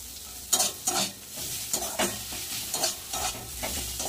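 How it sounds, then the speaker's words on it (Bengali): Radish greens with turmeric and salt frying in a pan, soft continuous sizzling broken by repeated spatula scrapes and stirs at a close, moderate level. "মূলো শাক ভাজা কিন্তু রেডি"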